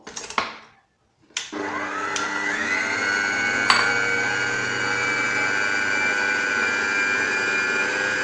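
Electric hand mixer whirring steadily as it beats two eggs with half a cup of sugar for chocolate cupcakes, starting after a few clicks and running loud and continuous with a high motor whine.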